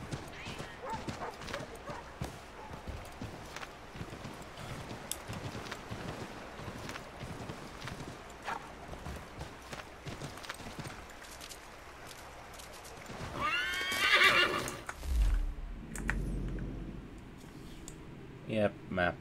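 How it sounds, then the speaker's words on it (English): Continuous galloping hoofbeats patter quickly through snow beneath a voice in the video game Assassin's Creed III, with a horse neighing loudly near the end amid faint wind. "Horses have basically no penalty when running through the snow,"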